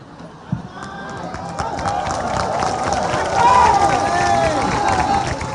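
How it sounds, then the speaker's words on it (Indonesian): Audience at an Islamic religious gathering clapping and cheering, a lively crowd roar with bursts of applause and babble building and holding loud through the clip. "Kenapa kalian tepuk tangan?"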